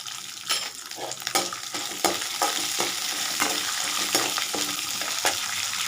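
Green chili, ginger and garlic frying in a pan, a close, loud bed of sizzle broken by repeated sharp spatula scrapes every second or so, with no one speaking.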